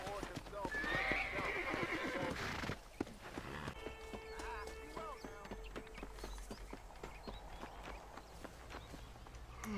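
A horse neighs and its hooves clip-clop in the Red Dead Redemption video game, a loud whinny followed by steady hoofbeats under a game-world ambience, with speech heard intermittently.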